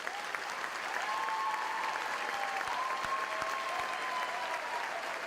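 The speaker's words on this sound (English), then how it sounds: "Let's give all of these people a big hand as they join you in this special moment" An audience at a university commencement ceremony applauds in a steady, dense wash of clapping that sounds somewhat distant and reverberant, with no voices on top.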